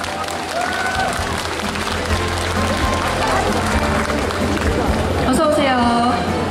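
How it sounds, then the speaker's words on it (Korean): At the opening performance of the Sunchang fermented sauce festival in Korea, a crowd applauds to welcome the county governor, loud and continuous, with music and voices mixed in. "여러분 군수님을 박수로 많이 해주시기 바랍니다"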